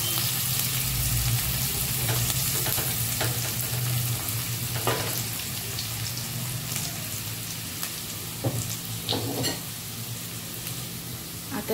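Whole spices—cinnamon, bay leaf, star anise and badam phool—sizzle and crackle steadily in hot oil for a chicken curry, a dense continuous frying hiss with occasional sharper pops and a low hum beneath.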